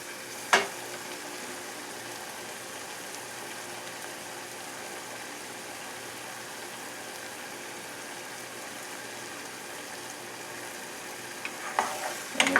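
Onions and mushrooms fry in a pot with a steady close sizzle throughout, and a few clinks of stirring at the start and end.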